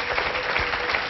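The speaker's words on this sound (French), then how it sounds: "On l'applaudit." A studio audience applauds on a French television program, a dense, close burst of clapping that fills the brief moment on its own.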